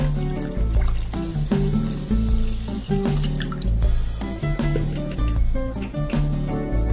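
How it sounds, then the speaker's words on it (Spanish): Three cups of water pour into a pressure-cooker pot holding two cups of rice, a loud close gurgling stream with sloshing and tonal bubbling throughout. "Y le colocamos el agua."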